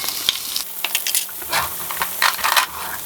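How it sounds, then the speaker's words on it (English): Jalapenos and garlic sautéing in a pan, a soft steady sizzle with scattered crackles and a few light stirring scrapes, heard close up without talk. "we're going to saute it for about 3 to 4 minutes"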